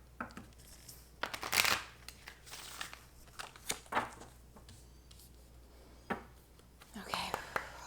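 Oracle cards are shuffled close by in quick papery riffles and slaps, several bursts spread out, with soft whispering between them.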